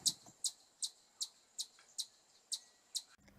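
A small striped chipmunk chirps in a quick, even series of about eight sharp, high tweets, fairly faint and alone.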